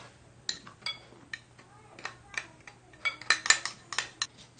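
A spoon stirring yogurt and gram flour (besan) with red chili and black pepper in a bowl, producing light, irregular clinks and scrapes against the bowl, close and fairly quiet.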